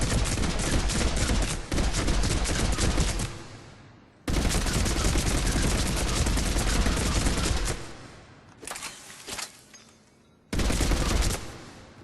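Revenant assault rifle in Mass Effect 3 firing full auto in long sustained bursts at point blank range, loud dense rattling gunfire with brief pauses between strings of shots, no talking.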